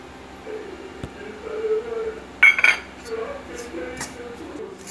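A spoon stirring milk powder into sugar syrup in a pan, with scattered light clinks and scrapes against the metal and a brief louder clatter midway.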